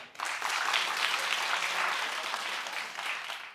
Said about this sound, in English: Clap if you do.